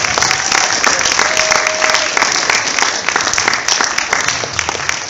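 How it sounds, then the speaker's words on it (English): An audience at an after-prom hypnosis show breaks into loud, dense applause that carries on steadily for the full five seconds. "Give them a big round of applause."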